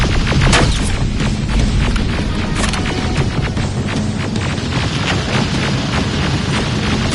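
Loud, continuous game combat in Terminator: Resistance, with booming rocket blasts and scattered gunfire cracking through a dense rumbling din.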